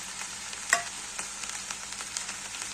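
Fenugreek leaves and crushed peanuts sautéed in a pan, a soft continuous sizzle with light scraping stirs and one sharper clink, close and fairly quiet.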